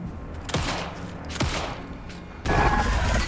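Three loud gunshot blasts from a video game weapon, evenly spaced about a second apart, the last followed by a sustained roar of fire, with no talking.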